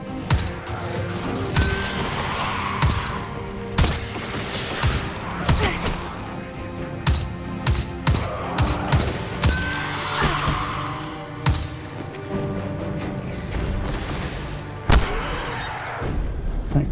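Video game gunfire in Destiny 2: loud, sharp shots and blasts in irregular bursts, some rapid clusters and some single heavy thumps, over a steady game background with no talking.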